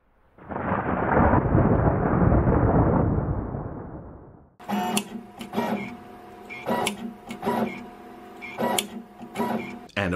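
A CHM-T36VA pick and place machine tests its drag pin and feeder. A loud, broad whooshing rush lasts about four seconds, then gives way to rapid mechanical clicks and short motor whines in an irregular rhythm.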